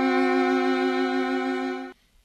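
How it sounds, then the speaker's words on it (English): A sustained tritone, an augmented fourth, rings as a steady tone rich in overtones for about two seconds, then cuts off abruptly into near silence. "a tritone or an augmented fourth sounds like this."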